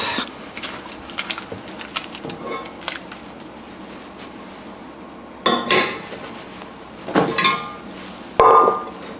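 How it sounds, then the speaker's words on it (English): A cooking pot is handled in a kitchen, with scattered clinks and knocks of metal followed by a few louder clanks and bumps near the end, close by. "Next step is get a pot."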